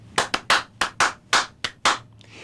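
Sharp hand claps in a rhythmic clapping pattern, eight crisp dry claps in an uneven rhythmic grouping, close and loud with short decays, then a brief soft rustle.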